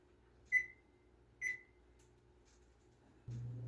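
Kitchen oven control panel being set to preheat to 350, giving two short, clear electronic beeps about a second apart, followed after a quiet stretch by a low, steady hum switching on.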